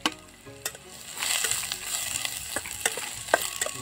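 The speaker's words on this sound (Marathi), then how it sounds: "त्याच्यामध्ये जिरा आणि मोहरी टाकून द्यायची आणि त्याच्यासोबतच हा बारीक चिरून घेतलेला कांदा थोडाच भाजायचा आहे" Finely chopped onion fries with cumin and mustard seeds in oil outdoors on a farm, giving a soft continuous sizzle broken by several sharp spoon clinks and stirring scrapes against the pan.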